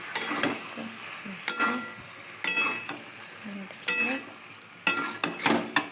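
Mixed vegetables for a Bengali-style sabzi being stirred and sautéed in a pan, with repeated scraping and clinking strokes over a soft sizzle and short pauses between bursts.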